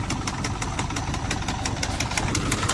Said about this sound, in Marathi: फवारा चालू आहे